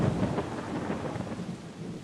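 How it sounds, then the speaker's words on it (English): Thunder rumbles low beneath a steady wash of falling rain, dense and continuous throughout with no voices. "When the rain starts to fall"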